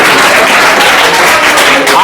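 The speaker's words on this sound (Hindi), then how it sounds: "चलिए ताली बजाइए भाई के लिए" A classroom of students bursts into dense, loud clapping for a classmate, a steady wash of applause with voices mixed in.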